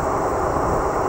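Howrah Rajdhani express train rushing past at about 130 km/h, a loud, steady broadband roar of wheels and carriages heard close by throughout.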